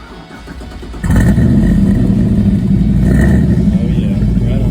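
Muscle car at a cruise-in, its engine idling low before a sudden loud rev kicks in and holds as a rumbling, throaty roar, close by.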